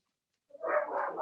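A pet dog barks and whimpers indoors, starting after a moment of silence with one sharp yip and then a sustained, loud whining bark, close to the microphone.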